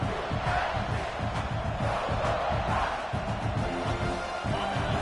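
A large football stadium crowd roars and chants continuously, a dense, steady wall of voices at a distance with no clear individual words.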